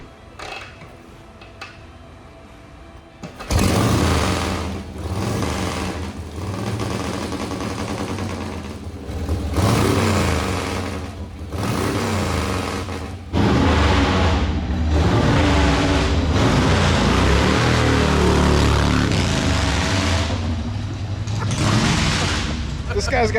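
A rare vintage motorcycle found walled up in brick fires up after sitting for years. Its engine roars loudly and revs unevenly, surging and dipping, while people talk over it.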